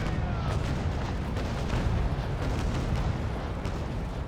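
Ship cannons fire in Naval Action, a continuous dense roar of booming blasts and rumbling impacts layered over each other, loud and close, with no talk.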